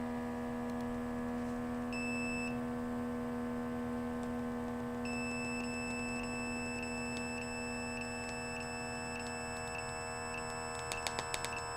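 A cell phone alarm sounds as a steady electronic tone over a constant low hum, with a series of evenly spaced high ticking beeps that grow denser near the end.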